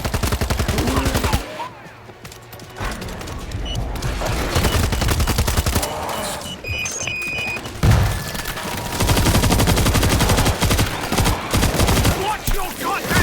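Rapid gunfire from a World War Z zombie shooter game, bursts of automatic shots crackling loudly and almost continuously, with a brief lull before resuming.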